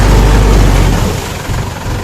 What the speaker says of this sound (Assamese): ইঞ্জিন গৰম কৰি আছে